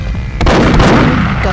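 Loud gunfire from the Perfect Dark video game, a sharp shot followed by a sustained dense burst of firing and booming blasts, with no talking.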